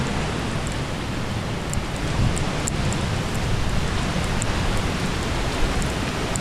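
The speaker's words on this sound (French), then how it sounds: "On a la pluie, quelques rafales." Steady, heavy rain hissing continuously during a typhoon in Yamato, Japan, with the roar swelling slightly as gusts pass; no voices.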